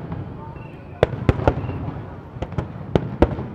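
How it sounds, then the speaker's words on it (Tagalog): Fireworks burst at an international display contest in Macau, sharp distant bangs arriving in irregular clusters over a low murmuring background, with a voice talking faintly. "Ang tagal ng fireworks na to."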